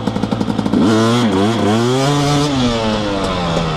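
A dirt bike engine pops at idle, then revs hard and holds a rising, wavering high pitch while doing first gear wheelies on a trail, loud and close, heard alone.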